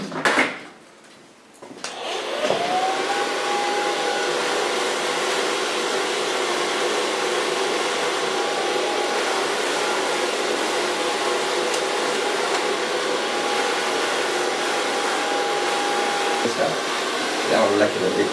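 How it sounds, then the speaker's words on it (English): A hair dryer blows steadily on a short pixie cut as it is styled with a medium brush. It makes a loud, continuous whooshing hum with a faint tonal whine that starts after a brief handling clatter and runs nearly unbroken to the end. "Gonna blow dry the hairs with a medium brush."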